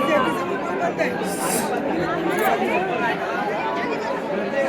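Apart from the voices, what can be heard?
crowd chatter at Ekvira temple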